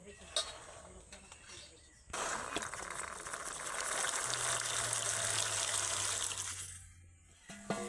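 Green peas are poured into water, making a sustained gushing, splashing rush that starts suddenly, runs for several seconds and then stops, with brief clinks before and after.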